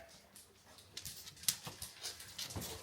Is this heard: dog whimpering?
yes